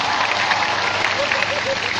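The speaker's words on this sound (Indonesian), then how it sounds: "KGPM, tepuk tangan." Youth camp congregation applauding during a sermon, a dense, steady wash of clapping that fills the whole stretch at an even, loud level with no distinct voices on top.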